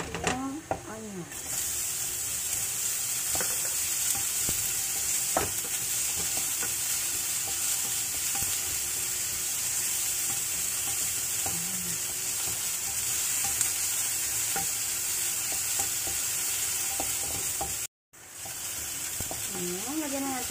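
Onion sizzling and frying with browned pork belly in a pan, a steady loud hiss running throughout with occasional stirring scrapes and a brief dropout near the end.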